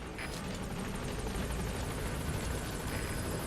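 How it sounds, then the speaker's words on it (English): A helicopter in the video game Metal Gear Solid V arriving at a landing zone, a steady dense rotor and engine roar, loud and close, holding evenly throughout with no talk. "Call our helicopter."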